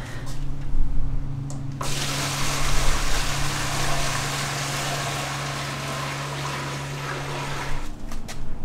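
Water pours steadily into a container with a continuous splashing hiss over a low hum, then tapers off near the end.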